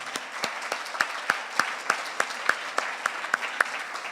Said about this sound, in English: So this is the applause for yourself in this.